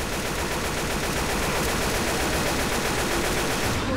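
Sustained automatic gunfire from survivors unloading on the Tank in Left 4 Dead 2, a dense, loud, unbroken rattle of shots that fills the whole stretch and cuts off near the end.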